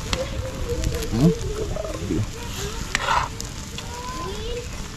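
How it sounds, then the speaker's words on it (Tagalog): Dalag fish adobo in coconut milk bubbles and sizzles softly in a pan, a faint steady crackle with occasional clinks of a ladle, while people talk nearby. "Yan na, kumukulo na siya."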